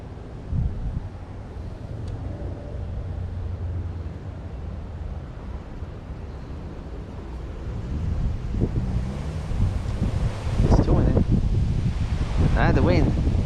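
Wind blowing outdoors by the water during a catfishing trip, a steady low rumble of gusts buffeting the microphone that swells and grows rougher toward the end, with a person talking over it.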